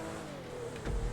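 A custom car's engine in a GTA 5 Online race hums steadily, then revs up sharply with a rising whine near the end, close and fairly loud.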